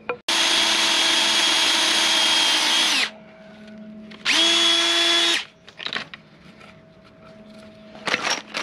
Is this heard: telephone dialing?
no